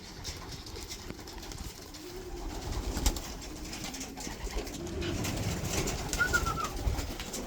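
Pigeons in a loft feeding on grit, with soft cooing and pecking amid a low rustling background, steady and moderately faint throughout.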